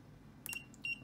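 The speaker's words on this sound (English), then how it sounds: "Makes a beep." An Ai8 fusion splicer switching on gives two short, clean electronic beeps, close and clear, about a third of a second apart over a quiet background.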